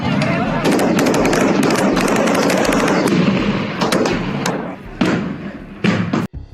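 Gunfire sound effect: rapid bursts of loud, close shots and bangs rattle continuously, then thin out into scattered sharp cracks, with a voice talking over them.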